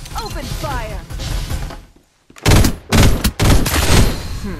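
Automatic weapons fire in the battle-royale shooter Farlight 84, loud bursts of rapid gunfire broken by a brief silence, then heavy repeated volleys, with excited talk mixed in.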